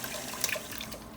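Tap water running as homemade butter gets its final rinse in a kitchen bowl, a steady close splashing stream with small spattering bursts and no talk.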